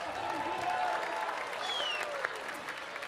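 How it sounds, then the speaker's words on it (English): An audience at the 2021 San Diego Music Awards keeps up sustained, fairly soft applause, with a few whistles rising over the clapping. "Another round of applause for those folks."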